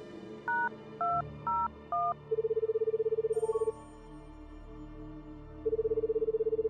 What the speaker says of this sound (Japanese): ジェイコブの部屋にダイヤルコールをする。